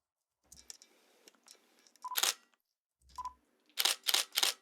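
Camera shutter sound effects auditioned one after another in editing software: several short, crisp clicks and bursts in quick clusters, separated by brief silent gaps, close and clean with a couple of faint beeps.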